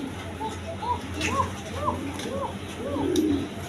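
Red Gorra pigeons, a male and female pair, coo softly in a repeated series of rising, burbling calls at close range, with steady background noise throughout.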